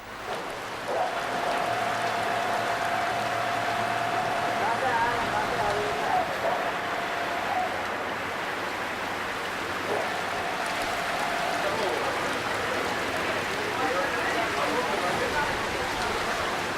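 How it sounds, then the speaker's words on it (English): Heavy tropical rain pours down steadily during the monsoon season in Malaysia, a dense continuous hiss that holds at an even loud level throughout, with faint tonal hums underneath. "the rains beneath the tropics are always violent"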